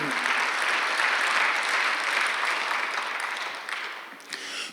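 Loud, sustained applause from a large church congregation during a Sunday worship service, steady at first and tapering slightly toward the end.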